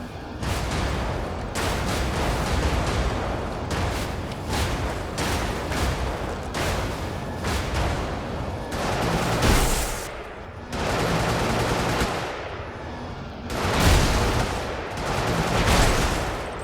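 Rapid bursts of loud gunfire come from a vehicle shooting at enemies in the mech game Brigador. The bursts are close and punchy, separated by short pauses.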